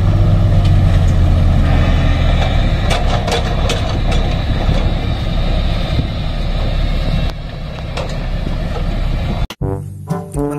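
A toy sand truck's engine drones loudly and steadily at close range, a low rumble with rattling overtones, ending in a few abrupt clicks and knocks.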